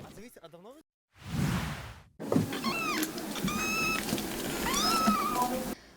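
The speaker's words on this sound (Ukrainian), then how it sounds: "Господарів для кошенят шукає військова ЗСУ зооволонтерка Олександра Романенко" Several small kittens meow in high, wavering cries, close by, with brief rustling and a whooshing burst between the calls.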